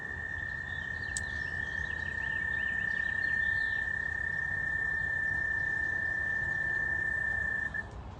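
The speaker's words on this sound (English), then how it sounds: "That sound you just heard that sounds like a mechanical equipment is a frog." A frog in a garden pond gives a steady, continuous mechanical-sounding trill, fairly faint, with distant birdsong over a low outdoor hum.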